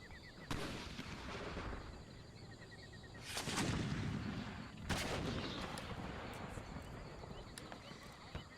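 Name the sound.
gunfire from troops in Empire Total War video game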